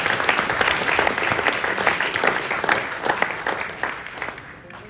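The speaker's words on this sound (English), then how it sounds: "I'd like to give another round of applause for all those great volunteers, all those great award recipients that we saw earlier" Audience applause for volunteers and award recipients at a ceremony in Hobart, a full room of sustained clapping that gradually thins and fades toward the end.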